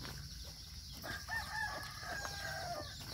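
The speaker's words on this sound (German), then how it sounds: "Küken." Chickens on a village farm in Lombok cluck and crow faintly in the distance, with a rooster's call rising over low outdoor background noise.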